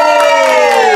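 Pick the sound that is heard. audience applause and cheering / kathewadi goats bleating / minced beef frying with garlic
audience applause and cheering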